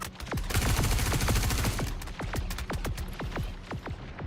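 Gunfire in the space game Star Citizen, a dense rapid fusillade of sharp cracks that thins into separate spaced shots, loud and close, with no talk.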